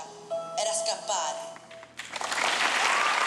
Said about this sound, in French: Des applaudissements pour la forme